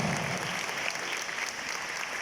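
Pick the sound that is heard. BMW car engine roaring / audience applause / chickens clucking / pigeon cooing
audience applause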